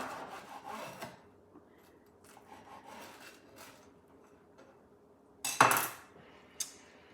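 A knife rasps through toasted patty melt sandwiches, a few soft scraping strokes at first, then a sharp loud crunching cut near the end followed by a brief final scrape.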